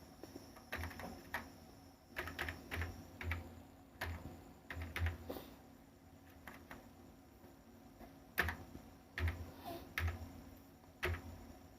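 Computer keyboard typing while entering data into an Excel spreadsheet: irregular bursts of soft key clicks in short runs with pauses between, quiet and close, no speech.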